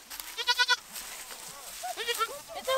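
Spanish Chico mother goat bleating on a farm with baby goats nearby, several wavering bleats in two bursts, fairly close and clear over soft background noise.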